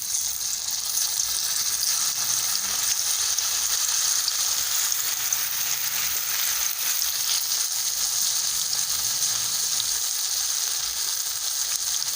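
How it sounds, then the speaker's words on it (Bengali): Soya koftas fry in hot mustard oil in a pan, giving a steady, dense sizzle that holds at an even level throughout with no talking. "এবার এই গরম তেলে কোপ্তাগুলো ভেজে নেব"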